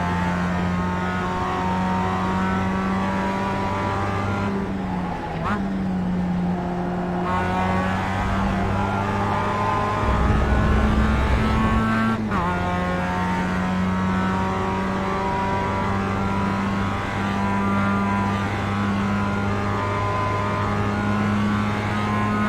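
Mazda MX-5 race car in iRacing at Road America, its engine droning steadily and loudly with shifting pitch as it revs up and down through gear changes for the whole stretch, with no talk.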